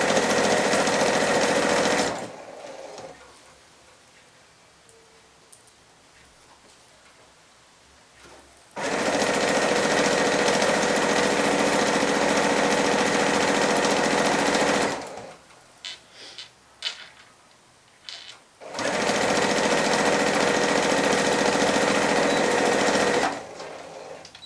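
A sewing machine stitches a shopper bag in three long, steady, close runs of fast mechanical whirring. Quieter pauses between the runs hold small handling clicks.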